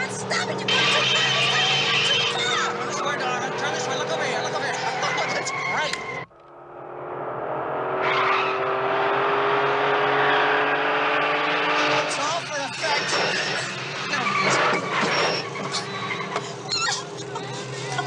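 A car from a 1975 film drives fast with a loud racing engine, cuts out briefly, then revs and accelerates again with rattling noise, while voices shout over it.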